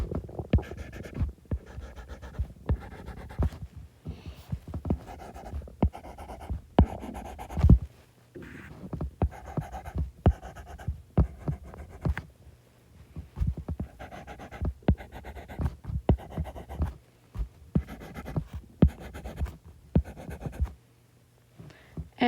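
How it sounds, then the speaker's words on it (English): Quick, repeated pen strokes scratching across paper, close and fairly quiet, in short rhythmic bursts of lines with brief pauses between groups. "Every time that you see the letter P, you're going to draw 3 lines."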